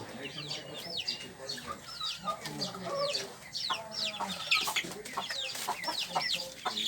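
Chickens on a small farm cluck and squawk close by in overlapping, uneven calls, with a person talking now and then among the birds.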